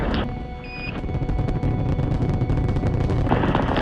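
The Apollo 11 rocket lifts off with a massive, continuous roaring rumble, loud and dense, building slightly and sustained over several seconds with no voices.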